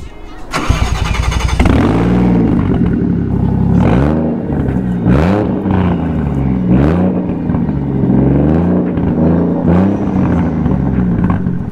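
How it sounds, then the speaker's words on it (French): A Toyota Chaser with a 1JZ engine and titanium exhaust cranks briefly, fires up loudly, then revs in repeated surging blips before settling into a rough, throaty idle, close by and alone. "le petit démarrage de la Chaser"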